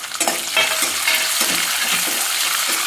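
Green peas go into sizzling tempering oil for vangibath and are stirred, giving a loud, continuous frying sizzle with repeated scraping stir strokes up close.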